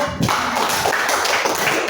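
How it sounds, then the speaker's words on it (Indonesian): Classroom applause for a student group during a lesson, a dense patter of claps filling two seconds at steady volume. "Tepuk tangan dulu untuk kelompok 4"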